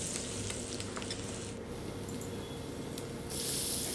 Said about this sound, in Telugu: లివర్ వేసుకుంటున్నాను.